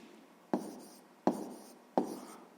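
A pen taps and scratches on paper in three short, sharp strokes followed by soft trailing scribbles, close and quiet, while numbers are written out for a sixth-grade math exercise.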